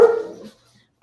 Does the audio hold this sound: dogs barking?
yes